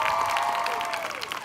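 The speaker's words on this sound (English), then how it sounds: "a round of applause to your support system" Commencement audience at an occupational therapy graduation ceremony breaking into steady, dense applause with scattered cheers, a continuous wash of clapping filling the room.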